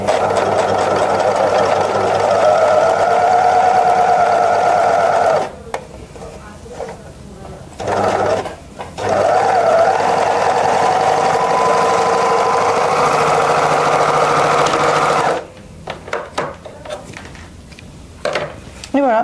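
A serger overlock machine stitching and trimming fabric with its cutting blade, a loud rapid whirring hum in long runs, stopping briefly between bursts, with a voice speaking during the pauses.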